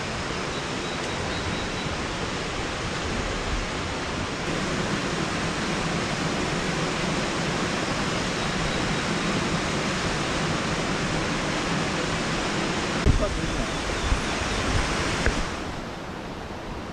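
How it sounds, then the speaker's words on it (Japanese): Steady broadband rush of a waterfall beside an abandoned railway hiking trail in Fukuchiyama, Japan, loud and continuous throughout with no speech, a brief knock near the end. "です滝。"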